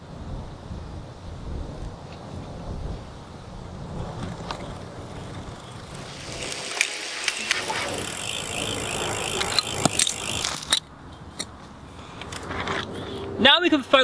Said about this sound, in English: remove your right hand pedal